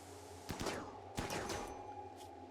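Colonists open fire in the colony-survival game RimWorld, firing two clustered bursts of rapid shots roughly a second apart over a steady low hum, moderately quiet and without speech.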